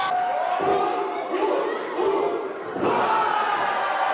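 A wrestling arena crowd roars and cheers loudly and continuously during a live wrestling event, with a brief dip before surging again.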